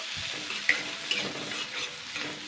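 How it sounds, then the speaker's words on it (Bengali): Chopped onion stirred and fried in a pan, a steady soft sizzle with a few sharp scraping clicks of the spoon, close by, no voices. "কুচানো পেঁয়াজটা দিয়ে দেবো এটাকে আমি জাস্ট দুই মিনিট মতন নাড়াচাড়া করে নেব"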